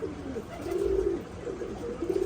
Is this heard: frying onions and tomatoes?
no